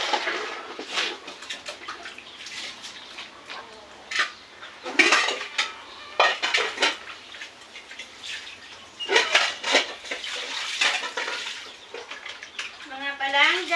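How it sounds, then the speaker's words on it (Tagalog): Dishes and plates being washed by hand, with irregular clinks and clatters of crockery and cutlery over running water, some louder knocks in between. "Hugas tayo ng plato,"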